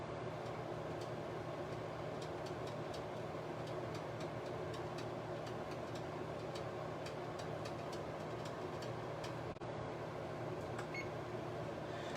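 A kitchen oven runs with a tater tot casserole baking inside, giving a steady, even hum that stays constant and alone throughout, with no talk over it.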